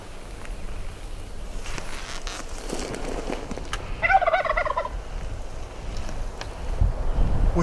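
A wild turkey gobbling from a tree on public land in Iowa during a spring hunt, one rapid rattling gobble at moderate distance over steady wind noise, with no talk.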